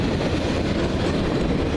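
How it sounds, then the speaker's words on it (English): Train passing through the Olde Town Gaithersburg station, a loud continuous rumble with rolling wheel noise filling the whole moment, no voices. "a train."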